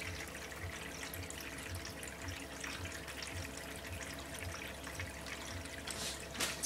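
Water pushed by a Topsflo solar pump flows back into a pail, a soft continuous trickle and splash heard faintly with a quiet rhythmic pump pulse underneath.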